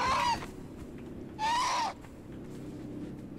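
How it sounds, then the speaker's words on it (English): Two loud hooting bird calls from a creature in Conan Exiles, each a short tonal cry, separated by a gap over a steady low game ambience. "There's another one of these wonderful birds"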